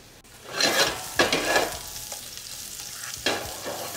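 Carrots cook in a pan with salt and crushed black pepper, loud bursts of sizzling and scraping as they are stirred and tossed, close up with short pauses between strokes.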